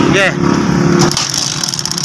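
A Kawasaki CT125 motorcycle engine idles with a fast, rough, rattling putter after being started, while someone speaks briefly over it.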